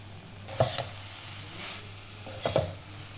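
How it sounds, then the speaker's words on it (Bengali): Lau greens simmer in a pan with a steady low sizzle as a little mustard oil is added near the end, with two brief stirring clatters over the hiss and no talk. "আমি একটু সরিষার তেল দিয়ে দেব।"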